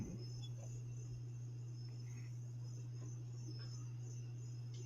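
Grasshoppers chirp faintly in the background, a thin steady insect trill under a constant low electrical hum with no pauses.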